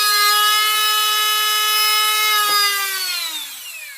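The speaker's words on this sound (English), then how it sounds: "pretty much a sanding tool" A rotary sanding tool for RC hobby work runs loud at a steady high-pitched whine, then spins down and fades toward the end.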